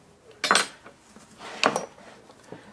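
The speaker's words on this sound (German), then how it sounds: "Jetzt schneiden wir es noch kurz von der anderen Seite ein." A knife scores a flank steak on a board in two short, distinct bursts of scraping cuts about a second apart, close and crisp, with quiet pauses between.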